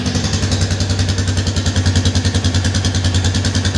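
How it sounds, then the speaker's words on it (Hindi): A Royal Enfield 350 motorcycle engine idles steadily just after starting, a loud, close, even thumping pulse with no talk over it. "इस तरह से हमारा इंजन स्टार्ट हो गया, हम इंजन की आवाज़ सुन सकते हैं कितनी प्यारी है।"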